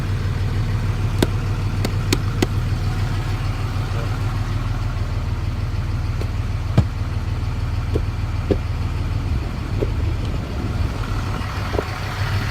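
A 2003 Dodge Ram 3500 truck engine runs steadily at idle, a loud, continuous low rumble with a few faint clicks and taps over it and no talk.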